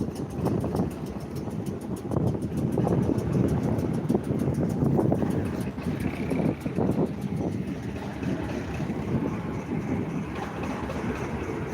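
Diesel locomotive known as a thumper at a diesel gala, its engine giving a heavy, continuous rumbling throb that swells and holds for several seconds with wind noise over the microphone.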